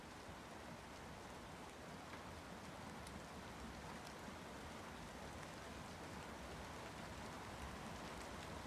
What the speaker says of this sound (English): you see it's raining again